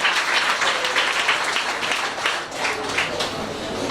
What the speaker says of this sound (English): you must give a round of applause for the teacher, Mrs. Blake.